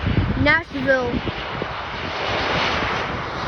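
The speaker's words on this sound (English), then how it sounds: "that is a Boeing 737-823 American Airlines driving in from" An American Airlines Boeing 737-823 jet taxis at Chicago O'Hare airport, its engines giving a steady, fairly loud roar beneath someone talking over the first part, then continuing alone.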